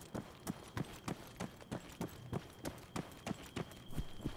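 Running footsteps of an ARMA III soldier, evenly spaced crunching footfalls close by, repeating at a brisk steady rhythm over quiet background hum.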